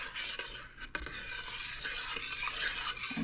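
Bulgur wheat porridge gets stirred in a cooking pot, a soft, continuous scraping and swishing at low volume over a faint background hiss.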